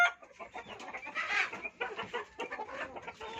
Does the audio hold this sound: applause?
no